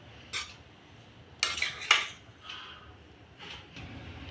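Coriander rice with lemon juice is stirred in a pan, giving a few scattered, fairly quiet spoon clinks and scrapes against the metal with pauses between them.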